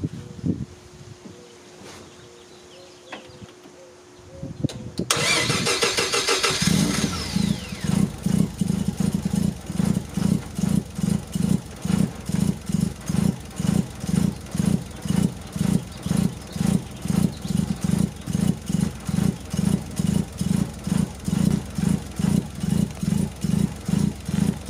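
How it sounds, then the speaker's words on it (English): A 1988 Mazda RX-7 FC3S rotary engine, just fitted with an upgraded fuel system, cranks and fires after a few quiet seconds, then settles into a loud, close, choppy idle with a steady pulsing rhythm. "So now it's a moment of truth to see if she's gonna fire up and hold an idle."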